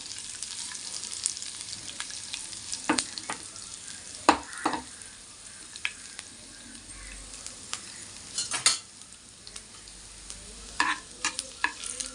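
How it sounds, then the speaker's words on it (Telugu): Chana dal, cumin, dried red chillies and crushed garlic fry in oil in a pan as a tempering, with a soft continuous sizzle and scattered sharp clinks and scrapes from stirring. "పోపు దినుసులు బాగా ఏగనివ్వండి"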